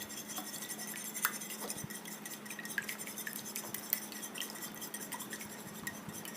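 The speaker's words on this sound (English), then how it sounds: "With a small whisk, I'm just going to whisk everything together." Eggs and lime juice whisked in a bowl with a small whisk, a quiet steady rapid ticking of metal against the bowl with a few louder clinks, heard alone.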